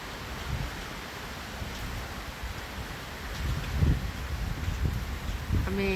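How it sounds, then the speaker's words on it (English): Strong wind storm gusts blow steadily through trees in a broad, rushing roar with rustling and buffeting against the microphone, swelling slightly toward the end. "there's some pretty strong wind"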